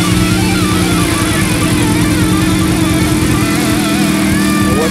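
A 2009 Chevy Aveo engine runs after a thermostat replacement, a loud, steady, close mechanical drone with a buzzing, lawnmower-like rumble that holds even throughout without pauses.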